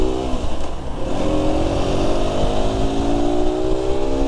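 An Aprilia motorcycle pulls away in first gear, its engine note rising steadily with a continuous, close drone and climbing harmonics, no voices over it.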